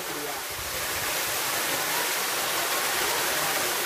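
Tiger Falls waterfall at Courtallam roars as a dense, steady wash of falling water that fills the whole clip, loud and close, with no pauses.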